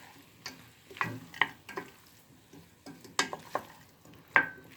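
Soaked lentils sautéing in a pot for lentil zucchini with broccoli soup, giving quiet, intermittent stirring scrapes and soft sizzle, with a few sharper clicks of utensil against pot.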